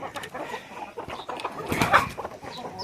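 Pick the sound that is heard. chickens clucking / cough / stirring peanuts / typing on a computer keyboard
chickens clucking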